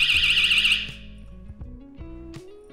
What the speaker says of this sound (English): I'm not gonna open it again because the alarm went off and it scared me.